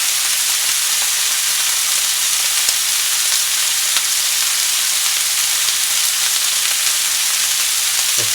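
Beef skirt steak (harami) sizzles steadily in a hot pan as it grills, a dense, even frying hiss with faint oil pops and no talk.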